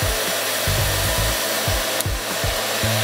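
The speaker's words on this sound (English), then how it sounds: "I'm blowing my hair dry now." A hair dryer blows steadily and loudly up close, drying hair in an unbroken roar, with rhythmic rubbing and brushing strokes pulsing underneath.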